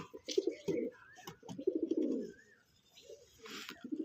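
Pigeons in a home loft coo in repeated low, throaty phrases close by. Softer coos and faint chirps come in the pauses.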